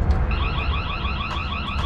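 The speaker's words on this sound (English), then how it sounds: "I'm setting the alarm off." A Vitech WiFi smart floodlight camera's siren sounds loud and close, a repeating electronic warbling wail cycling steadily with no talk over it.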